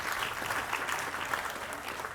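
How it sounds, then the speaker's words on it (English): Warm, even applause from an audience at a West Valley College all-college day gathering, moderately distant and steady for the full two seconds. "So round of applause for that."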